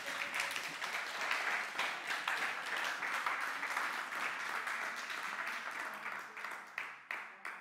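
A church congregation claps together in a long, fairly even burst of applause that stays moderately distant and steady before thinning into a few separate claps at the end.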